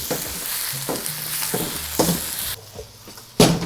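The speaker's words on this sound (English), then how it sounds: "And the spinach, I like to cook spinach quickly. Just moving it around the pan." Spinach sautéed and stirred around a hot pan: a bright, loud sizzle with several scraping pushes of the utensil, dropping quieter near the end before a final clatter.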